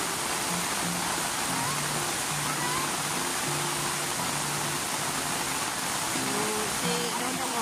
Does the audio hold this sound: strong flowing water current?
yes